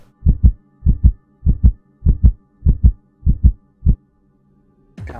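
A heartbeat from the video game Soul Hunt: eight loud, low, evenly paced double thumps pulsing steadily, then a pause and a brief noisy burst at the end.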